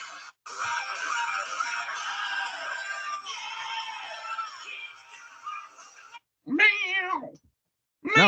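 Cat meowing heard up close in a few drawn-out, wavering cries, with a longer strained yowl followed by shorter distinct meows separated by brief silences.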